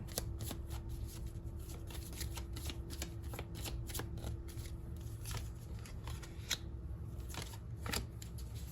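Tarot cards being shuffled by hand, a steady run of crisp riffling flicks and soft slaps close to the mic, continuing without pause and with no talking over it.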